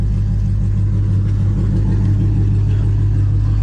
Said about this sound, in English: More idle noise. V6 is doing just fine.